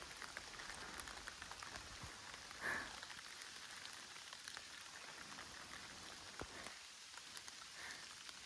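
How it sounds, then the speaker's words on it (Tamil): Steady rain patters outdoors, a dense wash of drops with a brief louder splash partway through; no one speaks. "திடீர் மழை,"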